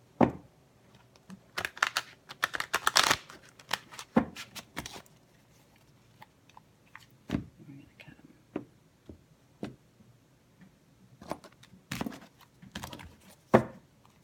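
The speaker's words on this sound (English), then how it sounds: "We do one more shuffle." Tarot cards shuffled by hand during a weekly Gemini reading, heard as bursts of soft flicking and riffling clicks, close and fairly quiet, in clusters with pauses between them.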